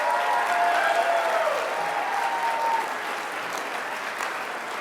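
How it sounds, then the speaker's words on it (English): A graduation audience at Holland College claps steadily in warm, sustained applause filling a large hall, fading slightly toward the end with no talk over it. "could I ask the graduates to join me in giving them a warm round of applause"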